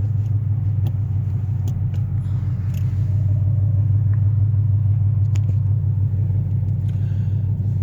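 A 2016 Ford Shelby GT350 with about 6,259 miles rumbling while driving, a steady deep engine drone heard from inside the car at a constant loudness with no talking.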